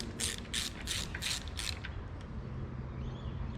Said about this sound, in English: Torque them up to 10 Newton meters, or basically just till they're firm.